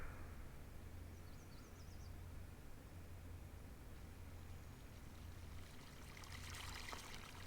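Steady rushing pour of water in a construction mod game, a continuous broadband stream with a low hum underneath, holding an even level throughout and swelling slightly near the end.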